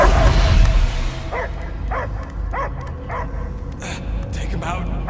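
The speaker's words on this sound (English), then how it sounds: "I hear only barking." A dog barks and yips repeatedly in the Guardians of the Galaxy video game, a series of sharp, fairly close barks over steady background noise and game sound, with a loud noisy burst at the start.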